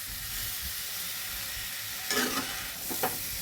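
Soaked, dried raw peanuts being stirred with corn in a hot pan: a steady low sizzle and hiss, then a few louder scraping stirs near the end, close by with no talking.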